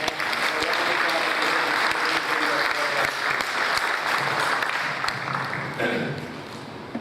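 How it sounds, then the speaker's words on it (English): An audience at a school board referendum town hall meeting applauds steadily, dense clapping close and loud, tapering off slightly toward the end. "Let's give them a nice round of applause."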